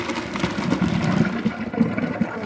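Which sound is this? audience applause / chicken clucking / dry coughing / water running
water running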